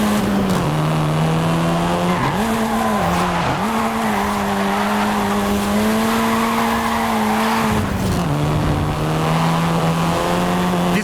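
A seventh-generation Volkswagen Golf R in Forza Horizon 5 drives with a loud, continuous engine drone. Its pitch drops and climbs through several gear shifts, with tire noise underneath and no voices.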